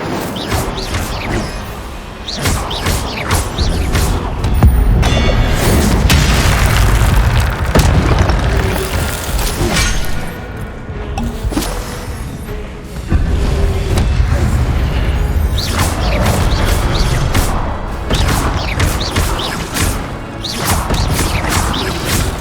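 A fire spell blast cast in the video game Hogwarts Legacy, heard as a run of loud, booming, crashing bursts that carry on steadily over a dense layer of game sound and music.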